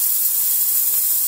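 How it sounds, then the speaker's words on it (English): Decent Espresso DE1+PRO espresso machine steam wand releasing a loud, steady, close hiss of steam, continuous and unbroken throughout. "You can hear this thing, this outputs a ton of steam."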